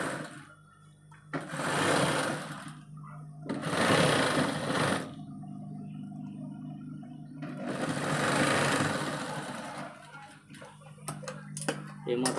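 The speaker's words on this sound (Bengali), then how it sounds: "কলারটাকে সাইডের চিকন করে সেলাই দিয়ে দিতে হবে, চিকন করে সেলাই মারতে হবে।" Sewing machine stitching a narrow seam along the side of a shirt collar, whirring in several bursts broken by quieter pauses with light ticking, close by.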